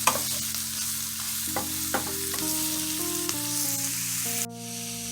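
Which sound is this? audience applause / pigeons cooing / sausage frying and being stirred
sausage frying and being stirred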